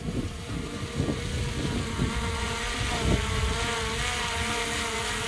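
A small DJI Mini 4 Pro quadcopter drone hums with a high, steady whine, partly buried under gusty wind noise.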